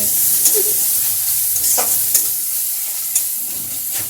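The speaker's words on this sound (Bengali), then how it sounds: "একটু নুন দিই সঙ্গে 1 চিমটি হলুদও দিয়ে দিই" A spatula stirs food frying in a pan as salt and a pinch of turmeric go in, with continuous loud sizzling and a few sharp scrapes against the pan.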